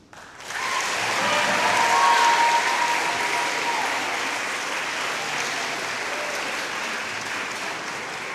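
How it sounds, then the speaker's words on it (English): An audience at a poetry performance breaks into loud, sustained applause that swells quickly and carries on steadily, with a few scattered cheers within the clapping. "Let's have another round of applause to Mayhem Poets."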